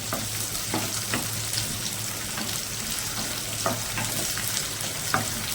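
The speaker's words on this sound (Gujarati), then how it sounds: "કંટોલા બરાબર આપણે તેલમાં ફ્રાય કરી લેવાના" Spiny gourd pieces fry in hot oil with a continuous, moderately loud sizzle, while a spatula stirs and scrapes the pan in occasional light strokes.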